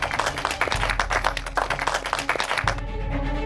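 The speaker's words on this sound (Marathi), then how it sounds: "टाळ्या वाजल्या पाहिजे" A crowd breaks into dense, steady clapping and applause for a leader at a public gathering, filling the air with no talk, then the clapping cuts off abruptly near the end.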